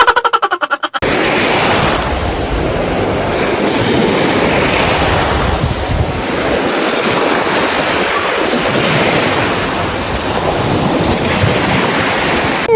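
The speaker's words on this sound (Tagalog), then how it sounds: "Napakasarap talagang pakinggan ng mga hampas ng alon." Ocean waves crashing and rolling continuously, with a roar of surf and wind buffeting the microphone throughout.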